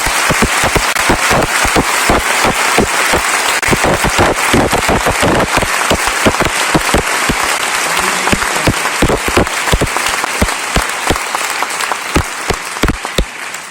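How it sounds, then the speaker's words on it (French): A theatre audience claps loudly and continuously for over ten seconds, a dense, even wash of applause echoing in the hall. "On les applaudit encore."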